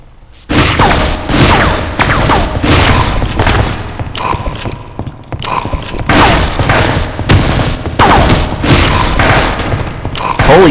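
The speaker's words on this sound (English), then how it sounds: "I'm gonna have to use a gun." Rapid bursts of gunfire and booming weapon blasts from the video game Half-Life: Opposing Force, loud and near, forming a dense, continuous barrage with brief lulls and a voice faintly underneath.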